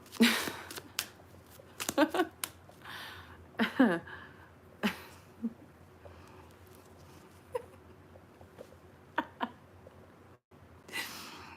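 Tarot cards get shuffled in quick riffling bursts, a few crisp flurries early on and then scattered softer flicks, close up in a quiet room.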